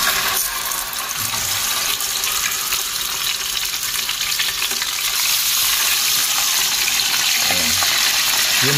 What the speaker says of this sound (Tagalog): Umpisa na natin iprito.